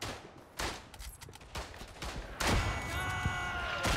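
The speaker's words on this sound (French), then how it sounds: "Il y a mon tir d'artillerie, c'est pour ça que j'avance pas." Artillery shells landing in the World War I shooter Verdun: a series of sharp blasts and crackling bursts, with a heavier sustained barrage rumbling and echoing through the final second and a half, loud and close.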